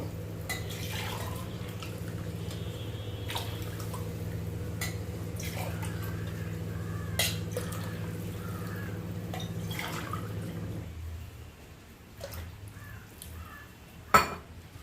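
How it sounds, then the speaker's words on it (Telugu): Water poured from a glass onto rice in a cooking pot, a steady low pouring hum that stops near the end, followed by a few light clinks and taps of kitchenware. "దీంట్లో 5 గ్లాసులు వాటర్ వేసుకుంటాను"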